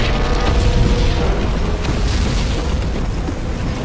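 A dense, continuous roar of heavy booms and rumbling blasts from artillery cannons in Red Dead Revolver, loud and sustained with no pauses.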